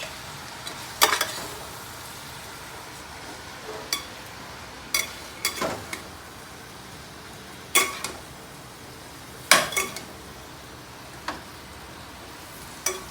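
Pancit bihon rice noodles tossed in a pan with chicken broth during a sauté: a quiet, low simmer with about a dozen sharp scrapes and clacks from a utensil against the pan, spaced irregularly.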